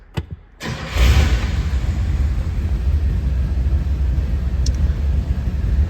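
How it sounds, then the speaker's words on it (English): A 1965 Buick Wildcat Deluxe Convertible engine cranks briefly after a couple of clicks, then catches and settles into a loud, steady, deep rumble at close range. "Let's go fire this one up."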